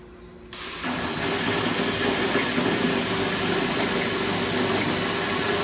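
A drill bores steadily through rusted welds on corroded metal, a loud continuous motor whine with a hissing cutting noise that kicks in after a brief quieter moment and holds without a break.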